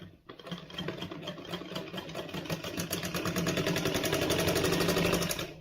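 A sewing machine runs steadily as it stitches a palazzo seam, a fast, even mechanical whir with rhythmic needle ticking that holds close and loud throughout, with no speech.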